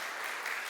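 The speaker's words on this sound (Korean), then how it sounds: "우리 축하해주고 우리 한번 졸업 축하 우리 한번 박수 주겠습니다" Congregation applauding graduating students during a Korean Baptist church Sunday service, a brief burst of dense, steady clapping from a crowd.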